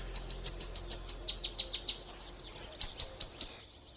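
Small birds in the African savanna give a rapid run of bright, evenly spaced chirps, about a dozen quick notes, followed by a few higher whistled calls before falling quiet, with a faint insect hum underneath.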